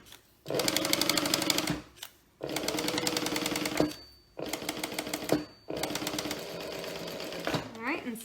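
A Juki sewing machine stitches a bag with a zipper foot, running in four fast, steady mechanical bursts separated by short pauses, close up and clear, with a brief voice near the end.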